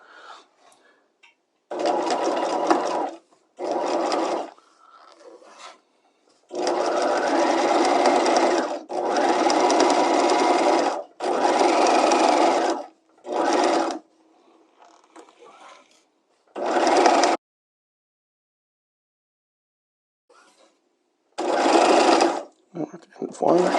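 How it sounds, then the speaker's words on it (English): A sewing machine stitches a slot seam in several distinct runs, short back-tack bursts at the start and end framing longer steady whirring passages, with quiet pauses between and a voice talking faintly in the gaps. "Okay, so let's go ahead and stitch this."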